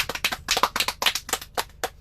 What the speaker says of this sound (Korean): 보라자매님 환영의 박수 한번 치죠